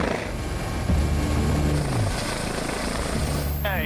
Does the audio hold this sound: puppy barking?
no